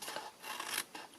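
Scissors snip through designer series paper along a score line in a few quick, close rasping cuts with short pauses between them, quiet and with no talking.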